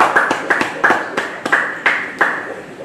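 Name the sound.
congregation applause in church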